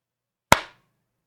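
A single sharp hand clap rings out alone in a quiet room, close and loud, with a short decaying tail.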